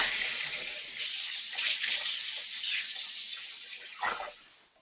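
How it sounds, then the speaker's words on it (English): Water runs from a kitchen sink tap while hands are washed beneath it, a continuous close splashing hiss with shifting gurgles, then a splash before the flow cuts off. "So I'm going to wash my hands off again."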